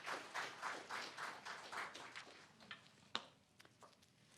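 Scattered applause from an audience at a university cleanroom unveiling ceremony, soft and fairly distant, starting as a rhythmic patter of claps and thinning to a few isolated claps and taps.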